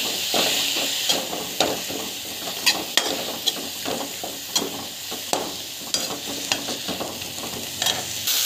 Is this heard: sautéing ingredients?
yes